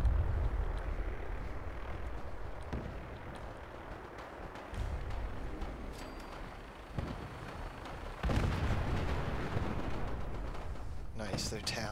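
Brotherhood gunfire in Fallout 4 combat, rumbling bursts of distant shots and booms over a dense steady background of battle noise.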